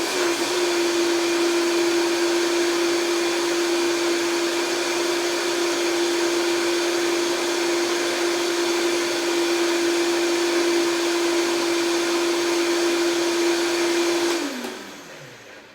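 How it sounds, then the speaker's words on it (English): A blender purees soaked cashews with nutritional yeast into a cheese sauce, a loud steady motor whine running continuously before spinning down at the end. "So we're just going to blend this up to get started."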